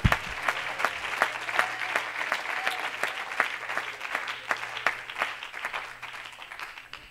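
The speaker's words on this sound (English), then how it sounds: "Somebody clap your hands to God." A congregation at a tent revival church service applauds, a dense, steady clapping that runs on without letting up, with a few voices faintly audible beneath it.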